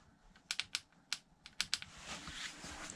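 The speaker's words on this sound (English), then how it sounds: "there's a funny noise coming from these jockey wheels" A bottom jockey wheel on a Cube 400 Cross Hybrid e-bike gives off a run of sharp, close clicks in an irregular rhythm, followed by a softer whirring hiss, with no talking.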